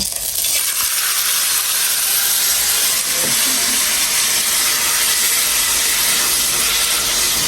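Pieces of meat sizzling in hot oil in a home kitchen, a steady loud broadband hiss that runs without break for the whole stretch, with a few faint clinks partway through.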